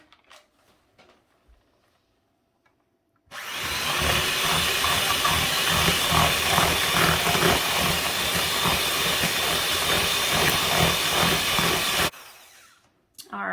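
An electric hand mixer churns cookie ingredients in a bowl, a loud continuous whirring buzz that starts abruptly, runs steadily for about nine seconds, then cuts off.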